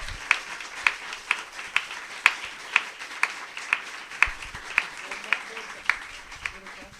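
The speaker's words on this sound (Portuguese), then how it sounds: "pode aplaudir com todas as suas forças" A church congregation clapping together during a Portuguese-language service, sharp evenly spaced claps in a steady rhythm of about two per second, fairly loud over a low room hum.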